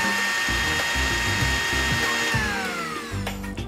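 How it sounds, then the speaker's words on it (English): A kitchen grinder whirs loudly as it grinds roasted spices into a powder, its motor pulsing in rough, rhythmic surges that stop near the end of the short clip. "it'll cool down slightly after 2 minutes and then we'll grind it into a powder."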